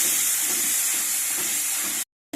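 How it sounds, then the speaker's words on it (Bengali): Cumin and chili powder masala frying in hot oil in a home kitchen gives a steady close, loud hiss and sizzle that cuts off abruptly near the end before briefly returning. "জিরে গুঁড়ো আর একটু লঙ্কা গুঁড়ো। এবার মশলাটা ভালোভাবে কষিয়ে নেব।"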